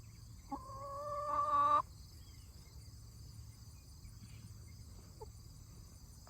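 Hens in a chicken coop give a single drawn-out, nasal squawk early on, then fall quiet over a steady, faint insect-like buzz in the background.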